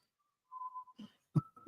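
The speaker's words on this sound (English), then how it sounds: "It's just whistling." A thin, high-pitched whistle sounds faintly, then a few short soft thumps and rustles follow in an otherwise quiet space.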